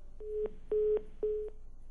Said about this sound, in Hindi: सीमा जी का फोन कट चुका है।